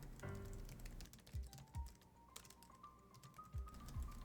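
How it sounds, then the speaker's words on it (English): Quiet clicking keystrokes on a computer keyboard during a typing test, with scattered taps and a few sharper thuds at an irregular pace in a hushed room. "With this typing test, I can warm up my hands, aim for a personal best on typing speeds"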